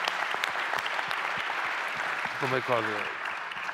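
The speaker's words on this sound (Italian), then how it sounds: "lo ringraziamo con un applauso" Audience applauding Padre Francesco on stage at an Italian conference on fraternity as a political category, a steady wash of clapping throughout, with a voice breaking in near the end.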